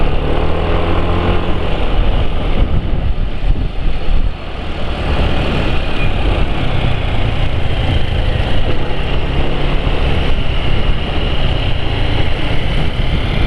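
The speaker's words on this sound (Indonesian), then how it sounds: "Ini suara motor penulis." A motorcycle engine, running on API SE oil, idles steadily and loudly at close range with a dense, continuous rumble and no voices.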